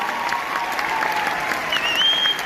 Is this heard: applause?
yes